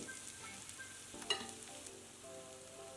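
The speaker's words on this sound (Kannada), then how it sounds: "ತರಿ ತರಿಯಾಗಿ ಪೇಸ್ಟ್ ಮಾಡ್ಕೊಂಡಿರೋದು ಈರುಳ್ಳಿ ಮಾತ್ರ ಚೆನ್ನಾಗಿ ಫ್ರೈ ಮಾಡ್ಕೊಂಡಿರಬೇಕು ಲೋ ಫ್ಲೇಮಲ್ಲಿ" Onion paste for a kofta curry gravy fries gently on low flame, giving a faint, soft sizzle with one brief utensil clink and a quiet tonal hum in the background.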